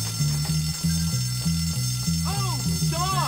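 A fire alarm rings in the video game Bully: Scholarship Edition on Wii, a loud repeating two-tone electronic pulse with warbling game sounds layered on top near the end.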